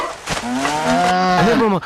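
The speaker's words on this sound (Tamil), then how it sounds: "மாடு போகுது" A cow moos loudly and close in a Tamil comedy scene, one long drawn-out call lasting nearly two seconds with a rising and falling pitch, alone with no talk over it.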